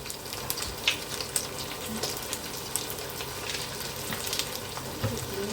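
Ferns being stir-fried with oyster sauce and sugar, a steady close sizzle with scattered light clicks of stirring throughout.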